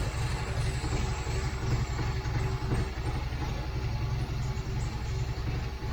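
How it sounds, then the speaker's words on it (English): A cold 1969 MGB engine idles on choke at about 700 RPM, a steady low rumbling drone with a faint regular pulse, heard alone and fairly close. "we've got it set about 700 RPM. It's cold and it's on choke"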